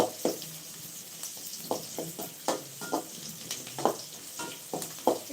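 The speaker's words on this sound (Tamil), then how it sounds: "சாம்பார் சமைச்சிட்டு இருக்கேன்" Sambar cooking in a pot, with soft stirring and ladle clinks over a faint bubbling sizzle, a quiet irregular series of knocks and scrapes close by.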